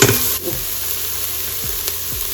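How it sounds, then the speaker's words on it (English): Ground turkey sizzles and crackles steadily in a hot Instant Pot, a continuous close frying hiss with a few soft scraping stirs. "I'm over here frying."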